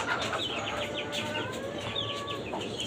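Tiger chickens in a rooftop cage farm give soft clucks and short chirping calls, several birds at close range, fairly quiet and continuous.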